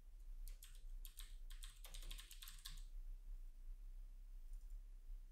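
Computer keyboard keys pressed in a quick burst of clicks during a debugging session in x64dbg, then silence over a low steady hum; close and fairly soft, no talk.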